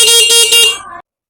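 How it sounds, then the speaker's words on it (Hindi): A new scooter's electric horn gives one steady, loud blast of about a second, buzzing and bright, then cuts off abruptly into silence. "मैं इस बटन को ऐसे दबाऊंगा तो इसका हॉर्न चलेगा।"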